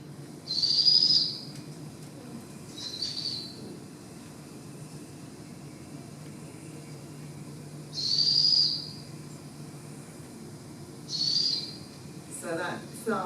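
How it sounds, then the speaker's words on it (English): A powerful owl chick gives a high, thin trilling call, three main bursts spaced several seconds apart over a faint low hum, moderately close. "the first sign that the chick has survived to this stage is when they trill, which is a high-pitched sound"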